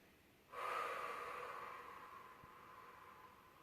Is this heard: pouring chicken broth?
no